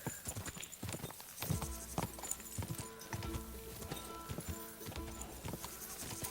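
A horse gallops in the medieval game Kingdom Come: Deliverance 2, with rapid rhythmic clip-clop hoofbeats running steadily over ambient game sound.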